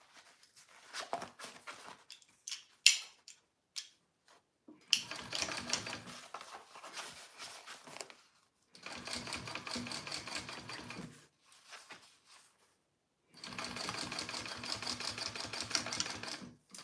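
A sewing machine topstitches along the gusset of a bowler bag in several bursts of fast, even mechanical clatter. The longest bursts come in the second half, with short pauses and small handling noises between them.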